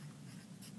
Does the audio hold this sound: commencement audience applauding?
no